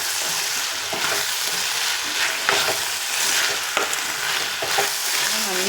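Okra with green chilli and salt being stirred in a pan, a steady frying sizzle broken by repeated scraping spoon strokes, close and fairly loud, with no voices.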